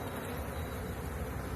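Honey bees buzz in a dense, steady hum while a package of bees is installed into a hive, the drone close and continuous without a break.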